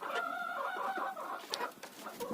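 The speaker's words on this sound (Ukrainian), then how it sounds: "Кури дуже добре їдять." Chickens cluck and murmur steadily at close range, with a few sharper squawks breaking through the soft, continuous clucking.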